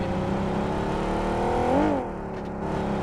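A vehicle engine in a multiplayer video game drones steadily up close, swelling briefly as it nears and revs, then settling back to a lower hum.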